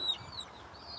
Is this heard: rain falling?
no